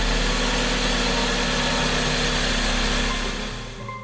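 The supercharged engine of a restored Toyota Comfort GT-Z runs at a steady idle close by, a loud, even rumble with mechanical whir that fades off in the final half-second.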